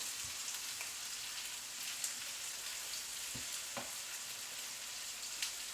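Onion frying in a pan over medium heat makes a soft, even crackling sizzle, fairly quiet, with scattered small pops and taps.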